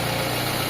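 A Nissan Sentra carburetor engine idles smoothly and steadily, a close, even low hum with no talking over it.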